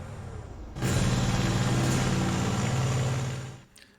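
A tank in the video game Panzer Corps: a loud, heavy engine roar with a deep rumbling drone kicks in suddenly, holds steady for a few seconds, then fades out.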